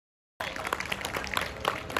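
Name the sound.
audience applause for Godavari House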